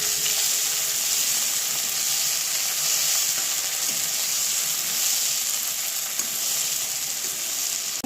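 Onion, tomato and green chili frying in hot oil give a steady, dense sizzle with a continuous bright hiss that holds evenly throughout, alone and with no talking.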